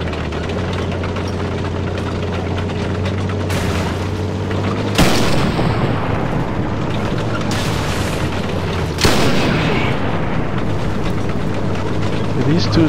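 Heavy tank cannon shots in the War Thunder video game, two loud booming blasts a few seconds apart over a constant low engine rumble and battlefield din.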